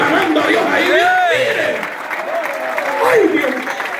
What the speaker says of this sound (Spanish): Mire cómo se destraban las manitos a las hermanas aplaudiendo